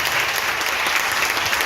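A church congregation claps together in thanks to Jesus, a loud, even wash of many hands filling the room without a pause.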